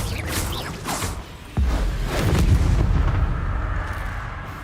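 Confringo, a fiery blasting spell in the wizarding game Hogwarts Legacy, goes off in one sharp, loud explosion after a brief buildup, then trails into a rumbling, crackling boom that slowly fades.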